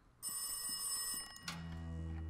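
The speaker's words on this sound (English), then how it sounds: "We got ourselves a ringing phone." An old-style telephone bell ringing in the horror video game Rise of Insanity, a continuous bright metallic trill for about a second, then cut off and replaced by a low humming drone, moderately loud with no talking.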